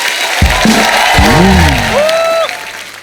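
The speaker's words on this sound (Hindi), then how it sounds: "मुंबई के डिब्बा वाले यहाँ पे आए हैं, इनके लिए जोरदार तालियां।" A television comedy studio audience at The Kapil Sharma Show gives loud applause and cheers to the Mumbai dabbawalas, a full crowd sound filling the moment, with tonal voices or music rising over it.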